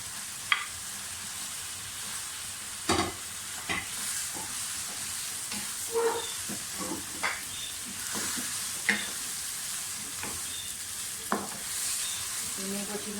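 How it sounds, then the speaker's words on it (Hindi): Minced chicken keema frying in a pan with garlic-ginger paste and green chilli paste, a steady close sizzle broken by repeated clacks and scrapes of stirring. "इन्हें को अच्छी तरह से फ्राई कर लें।"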